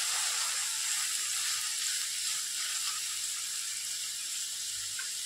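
Chopped tomato and onion fry steadily in a pan for a Shimla masala, a continuous close, loud sizzle and hiss with no talk over it.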